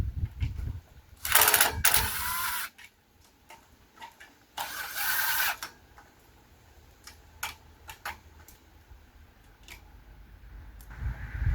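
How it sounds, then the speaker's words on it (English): A power screwdriver whirs in a few short bursts while screws and washers are driven into a Wayfair day bed frame, with clicks and handling knocks between, close and quiet. "screw in these here, 2 screws and 2 washers"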